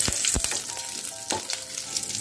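Whole cumin, bay leaves and a green chilli fried and stirred in a kadhai for besan gatte curry, bright oil sizzle with several distinct spoon scrapes and knocks against the metal, no speech.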